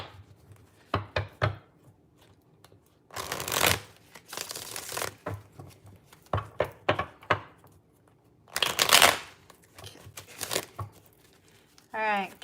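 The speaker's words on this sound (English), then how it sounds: "bear with me as I pull a couple cards out for Capricorn" Tarot card decks shuffled by hand in several riffling, crinkling bursts separated by pauses, close and fairly loud, with a brief voice near the end.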